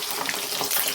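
Garlic sizzles in hot oil in a pan as the base for a snakehead fish pickle, a brief, steady, close crackling hiss.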